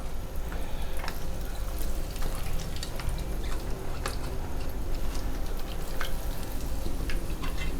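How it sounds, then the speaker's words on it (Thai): French fry potatoes dropped into hot oil for a first fry sizzle with a dense, steady crackling hiss and scattered sharp pops, close and continuous. "เดี๋ยวเราใส่มันฝรั่งของเราลงไปได้เลยนะ อันนี้จะเป็นการทอดรอบแรกก่อนนะครับ"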